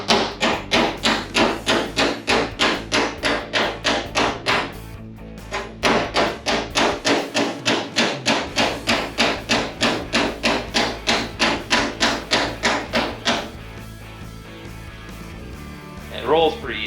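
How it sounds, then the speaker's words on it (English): Rapid, evenly spaced body hammer taps on the sheet metal of a 1986 car door skin, a brief pause, then another long run of steady blows before stopping; faint talk follows. "I'm using a flat side and just a regular body hammer"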